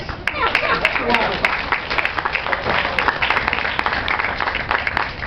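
Audience applause at a live magic show for a volunteer named Brianna, dense steady clapping from a crowd filling the whole stretch with no pause.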